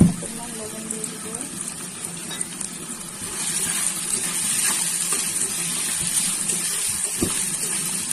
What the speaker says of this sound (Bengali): পেঁয়াজ, রসুন, শুকনো মরিচ ভালোভাবে ভাজা ভাজা করে নেব।